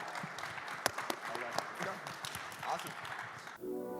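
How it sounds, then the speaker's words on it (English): Audience applause closes a Web3 gaming conference panel at Rare Evo 2023, a broad wash of clapping with scattered sharper claps and voices mixed in, ending abruptly as the sound cuts away. "give a round of applause for the panel"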